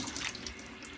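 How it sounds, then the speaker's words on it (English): Tap water runs steadily into a sink during a face rinse after shaving, a soft, faint continuous splash heard alone for a brief moment. "I continue to rinse as the water turns cold"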